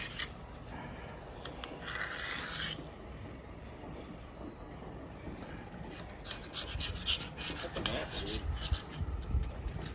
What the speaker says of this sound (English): I'm just scraping off whatever the chunks are stuck to it.